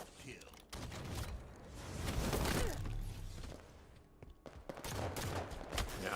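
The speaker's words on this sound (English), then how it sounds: "it's nice to see Carnage putting in some gunfire here" Gunfire in a Halo 5 4v4 tournament match, bursts of rapid automatic shots and thuds in game audio, interspersed with whooshes and a brief lull, while a commentator talks over it.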